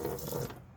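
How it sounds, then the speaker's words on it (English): Water pours in a brief splashing rush onto a Basenor frunk mat in a Tesla Model 3, close and soft, ending abruptly. "So let me say I spill some water in here."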